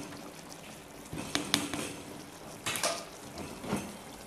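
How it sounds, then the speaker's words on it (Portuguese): Water poured from a container into a pot of raw rice with chicken thigh pieces, a few short splashy pours with light clinks of cookware, quiet and close. "Aqui vamos colocar um pouco de água"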